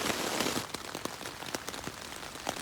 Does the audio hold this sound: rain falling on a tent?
yes